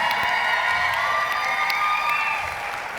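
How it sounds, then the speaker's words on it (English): A large event crowd cheers and whoops loudly and continuously, a dense wash of shouting voices that tapers off slightly toward the end. "I got a lot of woos in this crowd"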